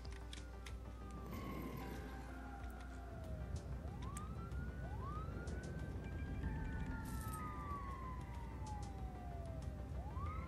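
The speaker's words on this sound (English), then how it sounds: "So where is the engine to take care of that? Here he comes." Fire engine siren in the SimCity city-building game, a wailing tone sweeping up and down repeatedly over a busy background of traffic and city noise, continuing throughout.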